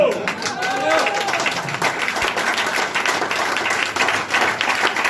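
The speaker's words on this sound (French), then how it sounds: "Voilà, on peut l'applaudir." Audience applause at a live French stand-up comedy show, a dense, steady wash of clapping from a crowd that continues for several seconds, with some voices mixed in.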